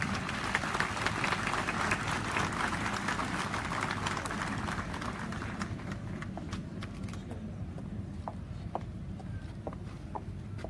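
Sustained audience applause at a park event honoring Erdal İnönü, dense and close at first, then thinning into scattered individual claps.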